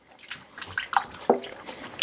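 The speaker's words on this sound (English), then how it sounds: "I like to put my hands in the water over here just to get that apple juice off my hands" Hands swish and rinse in a basin of water to wash off sticky apple juice while coring apples, giving a few close, brief splashes and drips.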